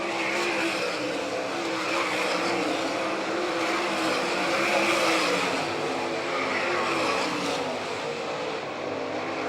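Dirt track race cars in an All Stars vs NCRA sprint car race at Doniphan, Nebraska, engines roaring loud and continuous as the pack battles through the turns, with no break in the sound.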